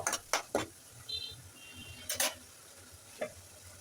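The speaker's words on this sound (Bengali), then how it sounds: "এখন ডালটা সব মশলার সাথে ভালোভাবে কিছুক্ষণ কষিয়ে নেব আমি" Red lentils being stirred and fried with spices in a pan while cooking dal with water spinach: a few sharp scraping stirs and clinks over a soft, steady sizzle, close and fairly quiet.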